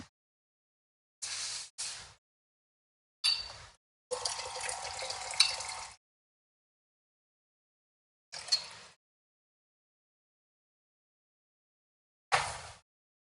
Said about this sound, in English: Let me get some water real quick.